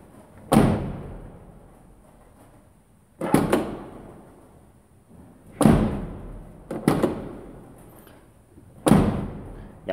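The rear door of a Peugeot 307 is opened and shut several times after a handle repair, each cycle a sharp latch click and solid thud, five close, loud impacts spaced a couple of seconds apart.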